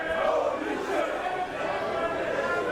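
Crowd at a BODYSLAM! Wrestling match between Joseph Conners and Michael Fynne, a steady loud roar of many voices chanting together throughout, close and filling the room.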